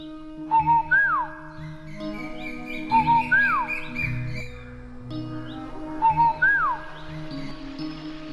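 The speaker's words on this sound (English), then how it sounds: "there lived in China a little nightingale who sang beautifully" Nightingale song used as a storytelling sound effect: three repeated whistled phrases with sliding notes, each a few seconds apart, over a steady background of soft music.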